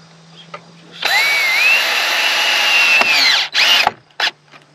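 A cordless power drill drives a short screw into oak firewood stand timber, whirring steadily for about two seconds in one close, loud run, then stopping, followed by two quick short bursts of the motor.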